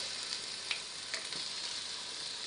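Chopped onion with curry powder sizzling in a hot pan: a steady, dense frying hiss throughout, with a few soft clicks of stirring and no talk.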